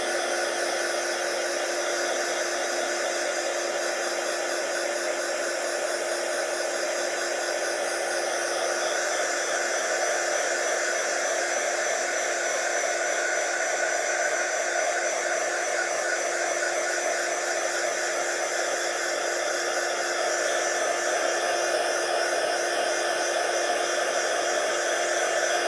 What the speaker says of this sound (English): We're going to dry this off